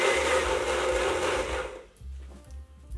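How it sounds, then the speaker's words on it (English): Blender grinding soaked rice for rice pudding, a steady loud whirring motor that drops away after about two seconds, leaving a lower rattling hum and brief clatter. "And now blend it, not to make a paste, just enough that rice will start looking like a pearls."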